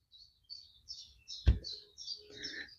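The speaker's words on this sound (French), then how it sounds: "C'est un merle noir." A blackbird in Morbihan countryside calls in a series of short, clear whistled chirps, fairly near, with a single sharp knock midway and no talk.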